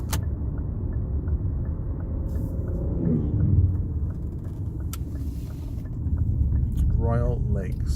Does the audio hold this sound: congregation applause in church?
no